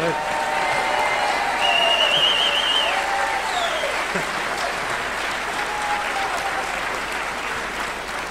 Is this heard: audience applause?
yes